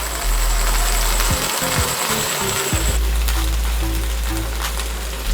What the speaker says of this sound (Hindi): ये सारा पेस्ट इसके अंदर डाल देंगे और इसे अच्छी तरह से भुनाई कर लेते हैं।